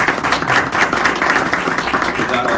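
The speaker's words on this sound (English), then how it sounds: "let's give them all a big round of applause or hand for being here" Audience applause greets guests at a company design hour, a dense patter of many hands clapping close and steady for a few seconds.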